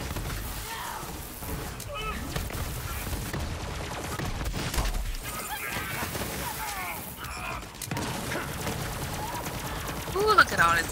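Rapid SMG fire in the Borderlands 3 co-op shooter on Xbox One, a dense, continuous crackle of automatic shots mixed with game effects and explosions, with people talking over the action throughout.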